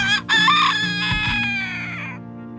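A pet rooster crows once, loud and close, a long drawn-out call of about two seconds that trails off into quiet.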